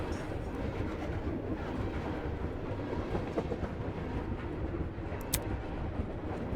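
Train rolling along the tracks through mountain country: a steady, broadband rumble with faint rhythmic rattling and a brief high squeal near the end, heard from inside at a constant, moderate level.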